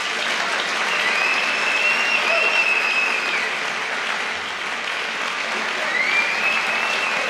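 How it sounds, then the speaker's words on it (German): Sustained applause from a large audience at a German political satire TV show, steady dense clapping filling the whole stretch, with faint crowd murmur underneath. "das ist einen Applaus wert"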